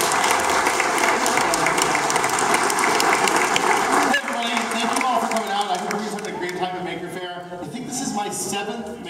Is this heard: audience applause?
yes